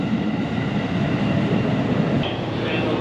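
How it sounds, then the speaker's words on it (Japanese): A local passenger train on the Tokaido Line glides slowly into a small station near Mount Ibuki, with a steady, close rumble of wheels and carriages and a faint squeal late on. "伊吹山の空気を感じながら普通列車がゆっくりと滑り込んできました"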